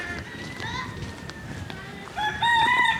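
A rooster crows loudly near the end, after a stretch of village outdoor ambience with faint calls and movement.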